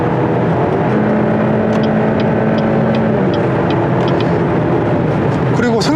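A car engine drones steadily and loudly while the car is driven through a corner, with a constant low hum and a faint rising whine near the end as a voice talks over it.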